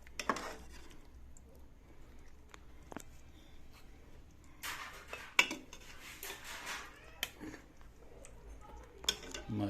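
Serving spoon clinks and scrapes against a metal pot as mutton and kachnar curry is ladled into a dish, intermittent sharp taps and soft sloshing, close and fairly quiet.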